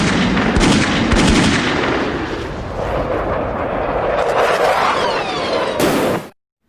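Rockets and bombs explode in rapid succession from a war scene, dense booming blasts and crackling fire filling the sound, loud and continuous before cutting off abruptly.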